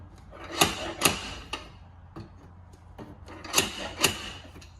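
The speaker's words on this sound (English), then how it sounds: "So that basically just welds itself to the panel, Just Chris." A stud welder spot-welds dent-pulling pins onto a car body panel during repair of a wrecked VW R 4x4, making two pairs of sharp, close snapping zaps with quiet gaps between them.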